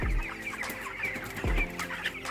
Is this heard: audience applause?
no